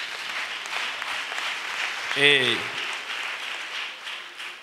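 An audience at a missionary retreat applauds and cheers in steady, continuous clapping, with a brief voice rising through the middle of it.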